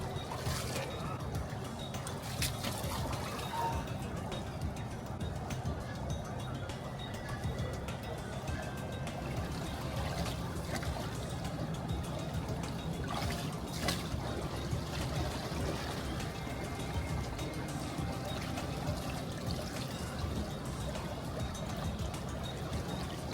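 Strong river water at Haridwar rushes steadily with a dense, continuous roar and trickling splashes close by, while people talk over the flow now and then.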